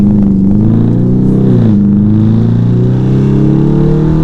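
A Dodge Charger RT in automatic accelerates, its deep engine note rising steadily with a brief dip at a gear change, loud and close with no talking.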